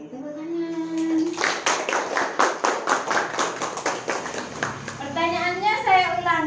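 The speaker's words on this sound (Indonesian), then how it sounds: "oke, tepuk tangan" A class in a teaching session claps hands in a steady, rhythmic burst lasting several seconds, loud and close, framed by a teacher's voice speaking before and after.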